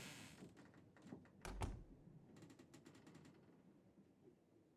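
A door opening in the video game Alida, a quiet knock-like thud followed by a short rattling clatter, faint and alone.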